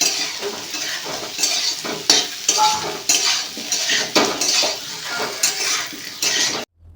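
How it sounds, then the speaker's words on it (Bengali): Potato, okra and pumpkin being stirred into fried spices in a pan, with repeated scraping and clattering of a utensil against the metal over a soft sizzle, stopping abruptly near the end. "সবজি বলতে আলু, ঢ্যাঁড়স এবং কুমড়ো দিয়ে মশলার সাথে ভালো করে মেশাতে"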